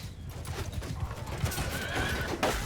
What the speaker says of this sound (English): That spear stopped that horse dead in its tracks.